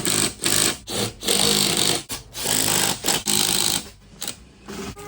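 A power tool, likely an impact wrench, fastens wheels back onto a Ford Thunderbird in a garage, firing in several loud rattling bursts separated by short pauses.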